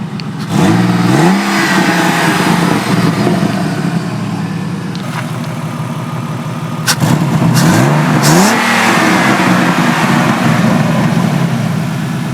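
A turbocharged BMW E36 engine revs repeatedly, its pitch sweeping up and down, while the wastegate dumps into the hood with hissy bursts; two main rev pulls stand out, loud and close.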